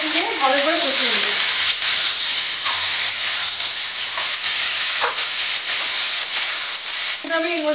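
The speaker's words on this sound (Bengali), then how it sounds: "এই আদা বাটা দিয়ে একটু দিয়ে ভালো করে কষিয়ে নেব" Ginger paste sautés in hot oil with a loud, continuous broadband sizzle and hiss. Steady stirring scrapes sound through it, and a brief voice-like tone rises at the start and again near the end.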